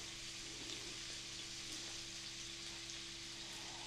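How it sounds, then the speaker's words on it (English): Finely chopped onion fries in a skillet, a steady, close sizzle with soft crackling and no talk, holding even for the whole stretch. "add 1 medium onion chopped fine. So we're gonna put our onion in there."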